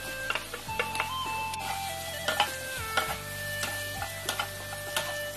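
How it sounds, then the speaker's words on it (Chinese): Fried chicken cubes tossed with green and red chili pieces in a hot wok, a steady sizzle under repeated sharp spatula scrapes and clicks, close and moderately loud. "再加入切好的青红辣椒段，翻炒十秒左右，倒入炸好的鸡丁"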